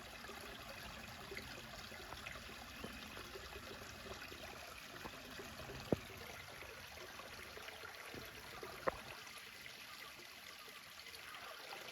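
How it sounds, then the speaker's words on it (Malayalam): Shallow river water trickles and flows steadily over stones, a soft continuous stream with a couple of faint clicks, no voices. "നല്ല വെള്ളം ഒലിക്കുന്ന ആ ഒരു സൗണ്ട് മാത്രമേ ഇവിടെ കേൾക്കുന്നുള്ളൂ കേട്ടോ."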